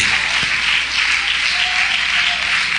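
Steady applause from a church congregation at a worship service, filling the whole stretch with dense clapping at an even, fairly loud level and no pauses.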